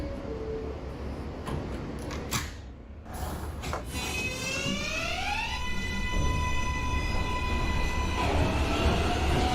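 An NYC Subway R143 train runs in the OpenBVE simulator, a loud continuous rail roar with a rising electric motor whine as it pulls away, with no voices.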